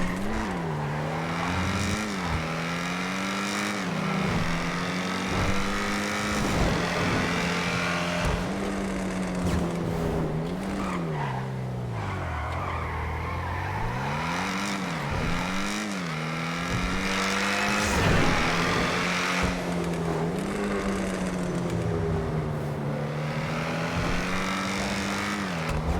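A car engine drones steadily and rises and falls in pitch as it accelerates through a tunnel, loud and close, with a reverberant roar and no talking.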